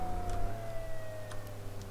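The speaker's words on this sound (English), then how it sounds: "Turn off my siren." A police car siren in the Flashing Lights video game wails steadily, a sustained tone slowly falling in pitch over a constant engine drone, with faint ticking clicks.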